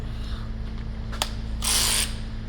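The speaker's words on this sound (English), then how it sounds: "Then we'll grab our battery ratchet." A battery-powered ratchet removing a caliper bolt on a 2019 Cadillac Escalade during a brake pad and caliper job, heard as a short sharp click followed by a half-second whirring buzz of the motor, close by over a low background hum.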